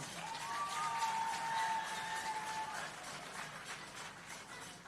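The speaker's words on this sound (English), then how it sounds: "give the Prime Minister of Jamaica and our special guest a big round of applause" An outdoor crowd at a groundbreaking ceremony applauds the Prime Minister of Jamaica, with sustained clapping and some cheering that hold steady throughout and carry a faint whistle-like tone.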